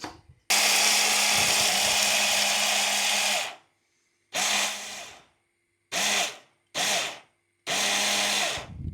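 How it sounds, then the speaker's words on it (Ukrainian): A blender chopping roasted peanuts whirs in one long burst, then in four short pulses, loud and close with hard stops between them. "і пробиваю блендером"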